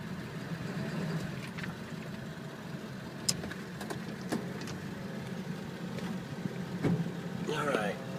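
A 2000 Ford F250 diesel truck engine idles and rumbles steadily as the truck pulls forward slowly, a low continuous drone with a few faint clicks and someone talking at moments.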